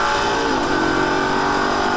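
A Lamborghini Gallardo engine revs hard at full throttle on a track, its strained mid-pitched drone steady and close for about two seconds as it climbs through an upshift.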